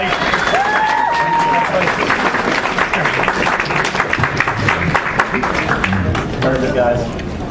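A crowd at East Coast Comicon 2018 claps steadily for the whole stretch, with dense loud applause and scattered voices and a whistle-like tone mixed in near the start.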